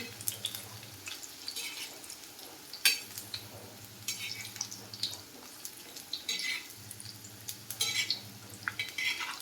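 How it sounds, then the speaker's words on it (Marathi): Colocasia leaf rolls (alu vadi) shallow-fry in a little oil with a faint, crackling sizzle, broken by occasional scrapes and clinks of turning the pieces in the pan. "मी जास्त तेल घेतलं नाही, थोड्याशाच तेलामध्ये तळत आहे."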